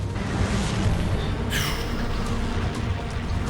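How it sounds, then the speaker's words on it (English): Bombs bursting in a carpet-bombing raid from the TV series Masters of the Air, a dense continuous rumble of low booms with one sharper blast cutting through midway, loud and sustained with no talk. "Carpet bombing, literally."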